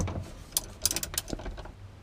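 A ratchet wrench clicks in short, close, quick bursts while cracking loose a bolt on the starter of a Sea Doo 787 personal watercraft.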